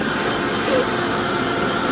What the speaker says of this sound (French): Pour gagner du temps, vous pouvez utiliser un sèche-cheveux.